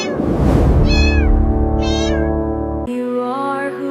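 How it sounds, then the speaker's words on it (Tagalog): A cat meows loudly and close several times in a row, drawn-out wavering cries, with no talking. "Alam ko na hindi ordinaryong pusa ang nakasunod sa akin."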